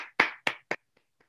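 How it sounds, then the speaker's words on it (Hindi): Three sharp, loud claps ring out close by in quick succession at a direct selling motivational talk, followed by two faint taps, then silence. "जोरदार ताली"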